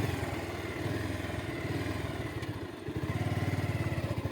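A motorcycle engine runs close by at the start of a two-person ride, chugging with a steady, rhythmic thump and clatter that briefly dips before picking back up, with no one talking.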